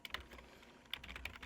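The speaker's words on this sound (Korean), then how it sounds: "문자열을 타이핑을 해보면요" Keystrokes on a computer keyboard while entering a string into a Scala interpreter, a quick irregular cluster of soft clicks at the start and another burst near the end, quiet and close with no talking.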